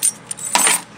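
Keys jangle and clink in a junk drawer among iPods and cables, a brief metallic rattle close by with a louder jingle midway through, and no talking.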